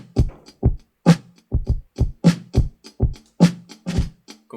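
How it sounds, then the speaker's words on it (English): Drum kit run through a drum effect that pulls down the transients so each hit is shorter: a steady pattern of clipped kick and snare beats with hi-hat, close and fairly loud, alone. "then I can put the transients down to make them all a bit shorter."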